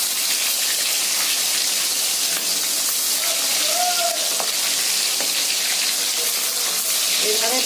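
Bhetki fish pieces fry crisply in hot oil in a wok, a dense continuous sizzle and crackle that stays loud and steady throughout.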